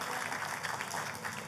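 Congregation clapping during a church worship service, a steady dense patter of many hands filling the room, fairly loud and continuous with no talk over it.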